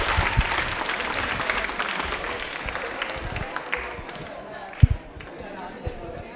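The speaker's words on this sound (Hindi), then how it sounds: "ताली एक बार जोरदार हो जाए" An audience at a railway quiz program bursts into applause for a contestant, a crowd clapping loudly at first and tapering off, with a few sharp knocks and scattered voices near the end.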